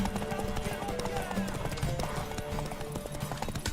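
Horse hooves gallop in The Witcher 3 video game, a rapid, steady clip-clop rhythm that runs throughout under game music and speaking voices.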